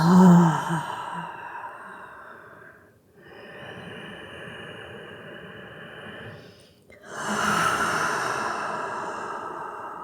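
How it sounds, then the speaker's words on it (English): Deep breathing during a yoga child's pose: a loud breath at the start, then a long slow exhale, a pause, another drawn-out exhale, and a fuller breath near the end, close and unhurried. "take a deep breath in and exhale"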